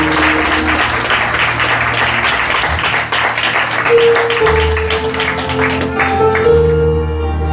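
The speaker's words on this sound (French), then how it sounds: "Can we clap for the choir?" A church congregation applauds the choir with steady, dense clapping that fills the whole stretch, loud and close, while music plays underneath.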